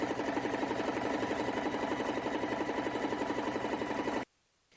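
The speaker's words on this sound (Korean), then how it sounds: "그 재봉틀의 바느질이 되는 모습을 한번" A home sewing machine stitching fabric, a fast even mechanical chatter of the needle running steadily and close, then stopping abruptly near the end.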